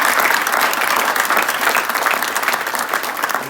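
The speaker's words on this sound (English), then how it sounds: "Please give them a round of applause." Sustained applause from a crowd at a Special Olympics Unified team signing day, steady and loud throughout with no pauses, clapping dense and continuous from start to finish.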